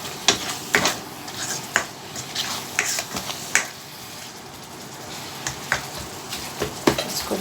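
Rajma masala being stirred and fried in a pan, with a spoon repeatedly scraping and clinking against the metal every second or so over a steady low sizzle, close and fairly quiet with no talking.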